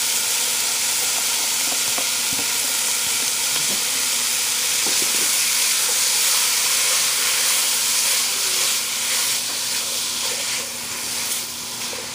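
Corn kernels frying in a pan with green chutney for curried corn, a steady, loud, continuous sizzle and hiss with faint stirring clatter throughout.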